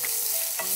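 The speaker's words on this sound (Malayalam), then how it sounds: "ഒന്ന് മൂത്ത് വരുമ്പോ നമുക്ക് നേരത്തെ അരച്ചു വെച്ച മസാല, മല്ലിയില, പുതിനില, പച്ചമുളക് എല്ലാം ചേർത്ത് നല്ലോണം അരച്ചു വെച്ചതിന് അത് നമുക്ക് ചേർക്കാം" Ground masala paste of coriander leaves, mint and green chilli frying in a pan, with a brief close sizzle and a soft stirring scrape.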